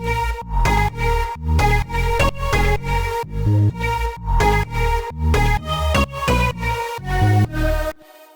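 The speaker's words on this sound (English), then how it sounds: "I think this is a nice full-sounding stack now." Layered, full lead synth stack built in FL Studio plays a bright, sustained melodic riff of rhythmic repeated chords, dense and loud, cutting off abruptly near the end with a short tail.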